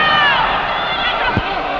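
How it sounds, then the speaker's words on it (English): A wrestling crowd yells and roars continuously at the referee during a match, a dense, loud wall of voices with a brief thump near the end. "Crowd yelling instructions to the referee, claiming that Pozendak's holding on to the ropes."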